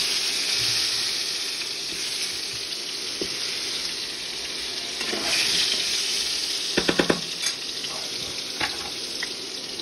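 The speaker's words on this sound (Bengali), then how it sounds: "কেটে রাখা আলুগুলো আমি ছেড়ে দিচ্ছি, এটা একটু হালকা ব্রাউন করে ভেজে নেবো।" Cut potatoes fry in hot oil with a continuous bright sizzle, close by, broken late on by a few quick clicks and taps of a utensil against the pan.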